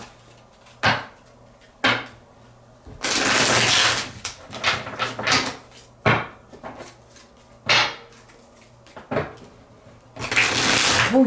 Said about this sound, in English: I'm going to put cards here.